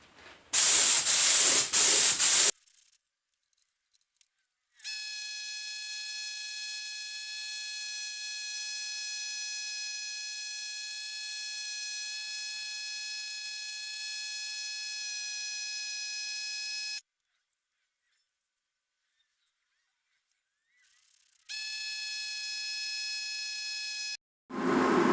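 A steady, hissing, high-pitched whine from a paint spray setup during work on a Honda Civic's front bumper cover, running in long continuous stretches broken by silent pauses, with brief louder bursts at the start and end.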